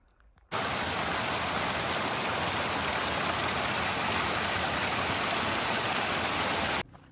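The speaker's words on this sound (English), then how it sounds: "Just started raining, sprinkling a little bit." Steady, even hiss of light rain falling on a mountain trail in Colorado, starting abruptly and continuing at the same level before cutting off.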